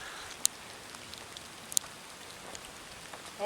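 Small ice pellets falling on a winter backpacking trail, a faint steady patter of tiny hits with a couple of sharper ticks, soft and continuous.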